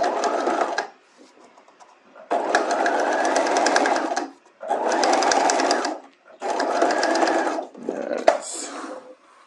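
A sewing machine stitches a bodice lining in four close, whirring bursts separated by short pauses, with a small clack near the end.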